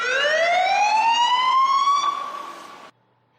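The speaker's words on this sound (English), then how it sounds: "Truck driver 12, I want you to turn on your siren." A fire truck siren wails loudly in a single rising tone with strong harmonics, held for nearly three seconds before cutting off abruptly.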